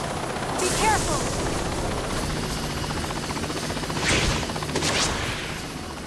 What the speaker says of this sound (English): the helicopter noise is so high